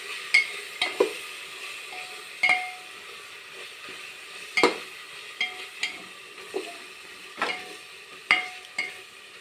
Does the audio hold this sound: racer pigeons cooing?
no